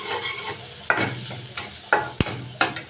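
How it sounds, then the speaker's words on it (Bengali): Onions sizzling in oil in a karahi, a steady frying hiss broken by several sharp scrapes and stirring knocks of a spoon against the pan, close up and with no talk. "আমি পেঁয়াজটা কড়াইতে দিয়ে দিচ্ছি। এখন একটু লাল লাল করে ভেজে নেব।"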